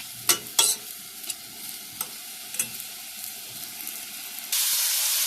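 Onions and carrots sizzle softly in a pan for a ground-meat sauce while a utensil scrapes and taps through them several times, then a louder rush of frying hiss swells at the end.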